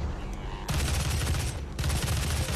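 Gunfire in the video game Doom on PS4, two dense bursts of rapid shots, loud and close, separated by a brief quieter gap.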